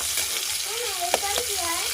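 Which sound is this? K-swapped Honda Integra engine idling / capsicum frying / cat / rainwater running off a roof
capsicum frying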